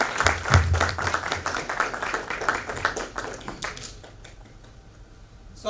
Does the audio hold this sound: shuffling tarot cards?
no